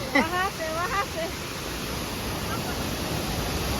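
A waterfall near Paderu, a steady broadband rush of falling water that continues throughout, with brief whistling bird or voice sounds near the start.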